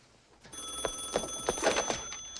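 A telephone rings in a film scene, a series of bright electronic trills repeating at a steady pace over faint room tone, with no voices over it.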